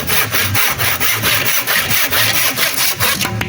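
A hand saw cuts through wood in quick, steady back-and-forth strokes, loud and close, with a regular rasping rhythm of about three strokes per second.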